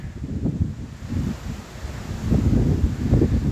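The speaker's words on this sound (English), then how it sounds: "Oh, we're getting back round to the windy side." Steady wind buffeting a microphone at the Carleith Cairn, low rumbling gusts that swell and ease, growing stronger toward the end, with no voices.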